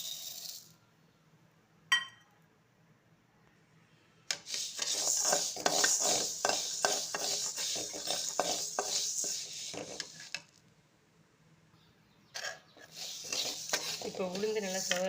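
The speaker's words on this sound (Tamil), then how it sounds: "ஒரு கப்பு கருப்பு உளுந்து, ஒரு கைப்பிடி அளவு அரிசி, இரண்டையும் இப்போ ஒரு சட்டியில் வறுத்துக்கலாம்" Black urad dal and a handful of rice dry roasting in a pan, giving a near, rhythmic scraping and rattling from repeated stirring in bursts, with short quiet gaps between.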